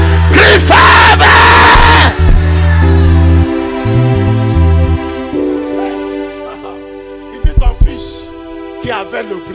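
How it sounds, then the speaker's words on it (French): Crowd at a French-language church service shouting the word 'faveur' together, loud group yells over a sustained organ-like keyboard chord, then fading into lighter scattered cries. "Crie faveur."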